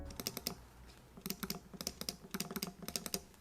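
Rapid clusters of crisp clicks from an Apple computer mouse, close and quiet, in quick bursts with short pauses between them.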